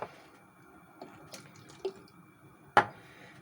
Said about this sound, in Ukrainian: Наливаємо наш фермент у стопочку додаємо трошки водички і перемішуємо.